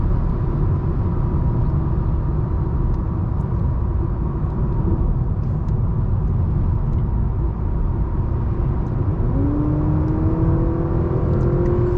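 A 2023 Honda Accord Sport engine running in sport drive mode, a steady low rumble and whir from inside the cabin that holds even throughout, with a rising tone appearing near the end as it picks up revs.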